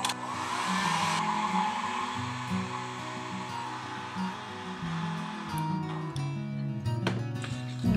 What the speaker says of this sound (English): I'm gonna move to my trusty hairdryer now to speed up this drying process